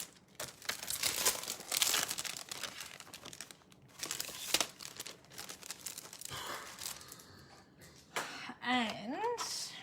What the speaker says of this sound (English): Let's put my foil away.